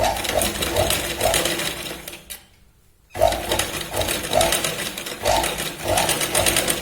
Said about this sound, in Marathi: थोडीशी आपण डाऊन तिरकशी इथे शिलाई लावायची